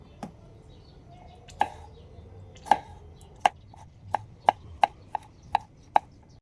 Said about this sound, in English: Next slice the tomato into thin, long strips.